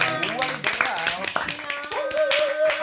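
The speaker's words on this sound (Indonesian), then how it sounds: "Tepuk tangan." Players of the board game Secret Hitler clap their hands in a quick scattered burst of applause at the table, mixed with overlapping talk and laughter throughout.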